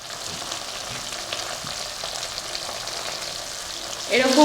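A spice mixture sautéing in oil for potol dorma, a stuffed pointed gourd dish, gives a soft, continuous sizzle with light stirring scrapes that grows louder at the very end.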